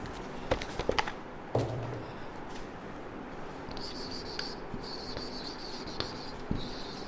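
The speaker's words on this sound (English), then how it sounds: "Can I write on the whiteboard?" A marker scratches and squeaks across a whiteboard in a classroom, with a few soft taps and strokes at moderate distance over quiet room noise.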